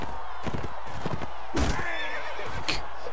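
Horses in the video game Mount & Blade neigh and snort loudly up close, with a clattering burst in the middle and whinnies rising over busy battle noise.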